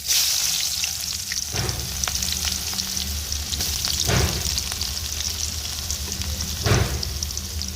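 Whole pulao spices and chopped onion frying in well-heated oil, a steady loud sizzle with a few sharper bursts and stirring scrapes as ingredients hit the pan, no voices.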